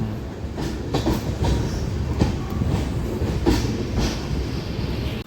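A train pulls out of Gudivada Junction, its wheels giving a steady clickety-clack with regular rhythmic clacks over a continuous rumbling ride noise, heard alone without talk.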